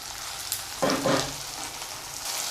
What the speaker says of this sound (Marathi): आता हे व्यवस्थित असं छान परतून घेऊया थोडासा कांदा नरम होईपर्यंत